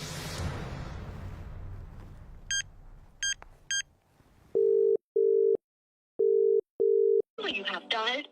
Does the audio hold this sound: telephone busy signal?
yes